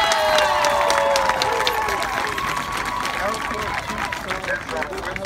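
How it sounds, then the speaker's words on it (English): A crowd of spectators at a high school band camp claps and cheers enthusiastically, with loud dense applause and whoops that stay strong throughout, mixed with scattered voices and crowd babble. "But what you can do is give them a round of applause again,"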